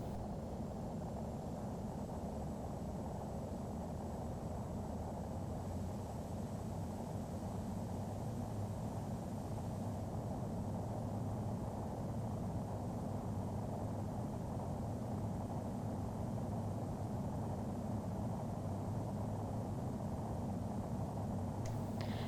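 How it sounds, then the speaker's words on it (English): An Embraer 170 with full payload and full fuel taking off at Armando Schwarck in the FSX flight simulator, a constant broad jet roar with deep rumble that holds steady throughout, with no talk. "This is now an Embraer 170 taking off from the same runway with full payload and full fuel."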